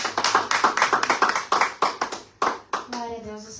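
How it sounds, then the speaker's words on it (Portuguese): A church congregation claps in a quick, regular rhythm, the sharp claps close and fairly loud. A voice starts speaking near the end as the clapping thins out. "Vamos receber a serva do Senhor com palmas bem alegres para Jesus Cristo"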